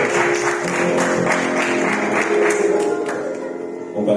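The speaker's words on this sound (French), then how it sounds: "applaudissements pour la chorale." A church congregation applauds the choir during a Sunday service, with steady, dense clapping that fills the space for about four seconds, while faint voices and musical tones sit underneath.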